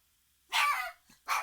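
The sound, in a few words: dogs barking outside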